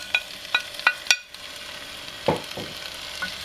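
Chopped peppers going into a hot pan for Hungarian lecsó: a few sharp clinks and drops up close, then a soft, faint sizzle underneath.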